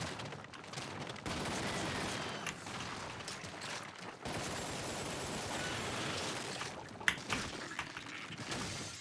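Shotgun fire in the video game Lost Planet: Extreme Condition, a dense run of loud blasts and clatter that starts after a brief pause, with a sharp crack near the end.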